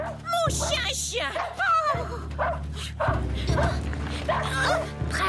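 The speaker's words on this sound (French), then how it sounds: "mon chien chien" A cartoon dog barks, yips and whimpers in short excited bursts over a background music bed, close and lively, with a voice speaking alongside.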